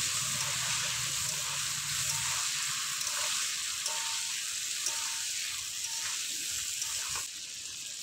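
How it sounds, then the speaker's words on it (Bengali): Cauliflower florets with a little salt and turmeric fry in hot oil in a pan, giving a steady, close sizzle that softens slightly toward the end. "লাল লাল করে ভেজে নেব।"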